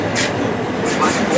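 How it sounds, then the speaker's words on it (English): A train runs through Clapham Junction station without stopping, a steady broadband rumble. Brief hissing bursts ride on top and a platform announcement plays over it. "The approaching train is not to stop at this station."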